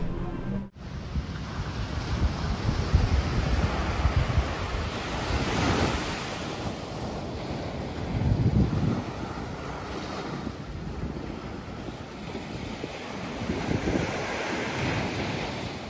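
Ocean waves and wind at Martim de Sá beach on Ilhabela, with loud continuous surf rolling in and swelling twice, heavy wind buffeting the microphone throughout.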